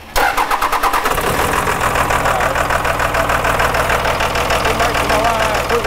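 Dodge Cummins diesel truck with a VP44 injection pump, being bled after a lift pump install, cranks steadily in a fast, even starter rhythm, loud and close, continuing without catching.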